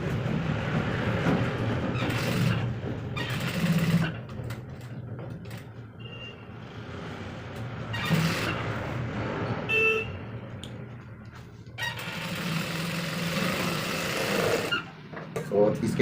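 A sewing machine stitches a pant belt in intermittent bursts of mechanical whirring, with pauses between runs and some background noise.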